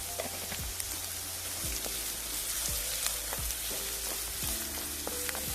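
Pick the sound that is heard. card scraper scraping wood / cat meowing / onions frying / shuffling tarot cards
onions frying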